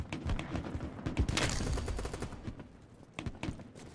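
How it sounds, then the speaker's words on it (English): Rapid bursts of gunfire in BattleBit Remastered, with dense overlapping shots and sharp cracks from a teammate's weapon nearby, firing continuously throughout with short gaps. "Teammate's shooting somebody."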